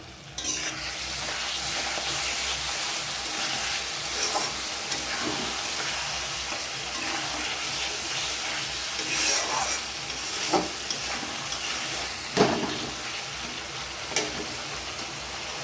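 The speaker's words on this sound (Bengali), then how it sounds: "মশলাটা দিয়ে দিয়েছি এবার আমি ভালো করে কষিয়ে নেব" Pointed gourd and potatoes sauté with a ground spice paste in a pan, giving a steady sizzle and frying hiss with occasional scrapes and stirs of a spatula, close and continuous, with no talking.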